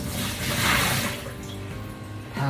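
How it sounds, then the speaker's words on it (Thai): Leftover water is poured out of an Amway eSpring water filter housing, a continuous close splash and trickle that swells, then tapers off. "เทน้ำที่ค้างอยู่ก็ออก"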